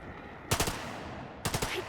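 Gunfire in the tactical video game The Lamplighters League: two short rapid bursts of shots, about a second apart, over a quiet game background.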